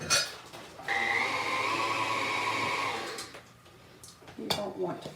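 An electric mixer blends sour cream cookie dough flavored with almond, running as a steady, fairly loud whir for a couple of seconds before cutting off, followed by a few soft knocks and clatters.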